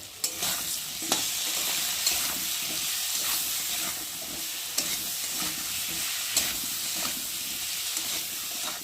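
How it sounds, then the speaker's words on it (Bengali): Spice masala with turmeric, chili, ginger, cumin, garlic paste and chopped tomato fries with potatoes, giving a loud, continuous sizzle and hiss, punctuated by regular scraping clacks of a stirring spoon against the pan. "মশলাটা আলুর সাথে ভালো করে কষিয়ে নেব"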